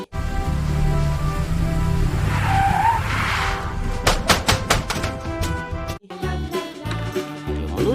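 A toy tanker truck rolls fast down a plastic toy track, giving a steady rolling whir with squeaky skid-like sounds and a run of clattering knocks toward the end.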